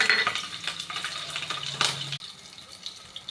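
Green chillies dropped into hot oil in a pan, a bright crackling sizzle with a few stirring scrapes that cuts off abruptly partway, leaving a faint low hiss.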